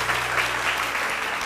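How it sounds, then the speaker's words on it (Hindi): Studio audience on a TV morning show applauding steadily, a thick continuous wash of clapping filling the short stretch without any speech. "बहुत सारी तालियां,"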